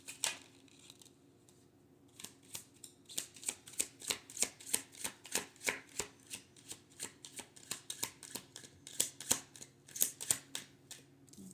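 A deck of tarot cards is shuffled close by, with rapid, crisp riffling flicks repeating in a fast, even rhythm over a quiet background.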